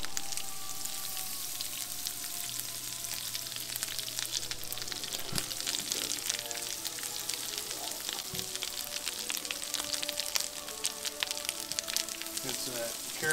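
Garlic herb butter sizzles and crackles steadily in a pan, with dense popping spatter throughout and occasional clinks, while a person talks quietly over the cooking.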